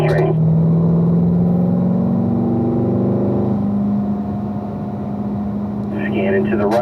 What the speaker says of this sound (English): full throttle acceleration all the way down the straight